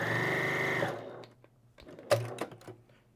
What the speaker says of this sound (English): now when I sew, the top looks good